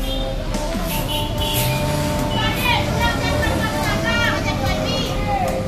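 ANS coach bus pulling out of its Bandung depot bound for West Sumatra, a steady low engine drone and road rumble under continuous chatter, with other voices audible nearby.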